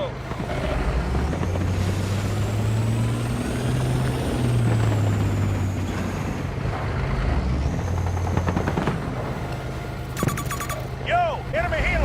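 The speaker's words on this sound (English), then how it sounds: "Yo, enemy helo, watch your movement." An enemy helicopter in the video game Battlefield 2042, a loud, continuous low engine drone with shifting pitch amid game noise and a few sharp electronic tones near the end.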